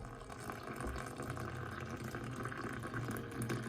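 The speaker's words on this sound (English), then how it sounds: "Take a tea bag in a cup, pour boiling hot water." Boiling water poured from a kettle into a cup holding a tea bag, a faint, close, continuous splashing and trickling stream that lasts the whole moment.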